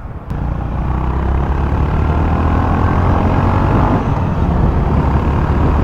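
A 2025 Honda GB350S motorcycle engine rattles and drones steadily while riding, a loud, continuous low rumble that holds constant from start to finish with no voices.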